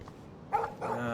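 Dog from the video game Life Is Strange, barking twice in quick succession near an RV, short sharp yaps, fairly close and clear.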